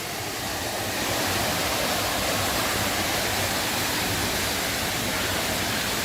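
A small waterfall on a forest trek toward Chinna Suruli falls rushes in a steady, dense roar that swells slightly after the first second and then holds evenly throughout, with no voices.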